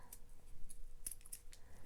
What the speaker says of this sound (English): Then we can take some fabric scissors.